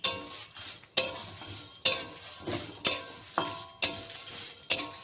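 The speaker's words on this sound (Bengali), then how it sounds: "এগুলোকে একটু ভালো করে নেড়েচেড়ে ভেজে নিতে হবে" Whole garam masala, cinnamon, cloves and cardamom are stir-fried in a pan, with a spoon scraping and clinking against the metal in about six regular strokes over a faint sizzle.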